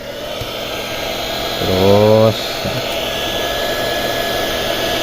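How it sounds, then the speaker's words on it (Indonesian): A hair dryer blows steady air to dry a water-damaged Xiaomi Poco phone, rising briefly into a louder whirring burst before settling back to a constant hum, with a short spoken word nearby. "saya pakai hair dryer ya, blower ininya"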